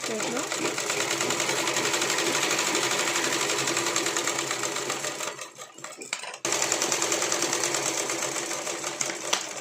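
A sewing machine runs steadily while stitching a blouse, its rapid rhythmic clatter stopping briefly and then resuming as a person talks over it.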